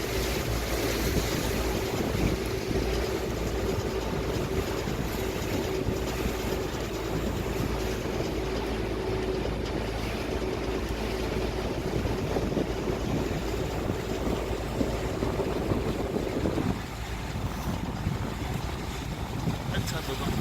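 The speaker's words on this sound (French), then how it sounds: "Ça, c'est le bateau." Boat moving on a river between buildings, a steady loud wash of engine rumble, water and wind noise running throughout, with faint voices in the background.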